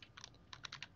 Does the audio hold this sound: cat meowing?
no